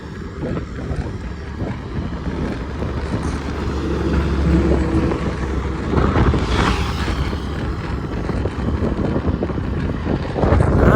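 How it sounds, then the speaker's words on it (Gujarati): Strong wind roars steadily and buffets a microphone, a dense rumbling rush that swells slightly as it goes, with no voices. "પવન જોઈ લો તમે કેટલો હોય છે."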